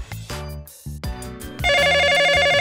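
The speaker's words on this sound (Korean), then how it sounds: "어? 전화가 왔네?" A short musical jingle gives way to a loud, steady electronic telephone ring that trills continuously without pause, in a children's cartoon.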